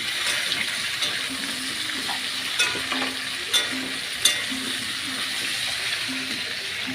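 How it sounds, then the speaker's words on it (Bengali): Five-spice and bay leaf frying in oil for a Malabar spinach curry, a steady close sizzle and hiss with a few light clicks of a utensil against the pan. "দেখো ভাজা ভাজা হচ্ছে।"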